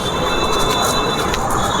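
Hyderabad metro train running at night, a steady close rumble of wheels on rail with thin high squealing tones held throughout, no voices.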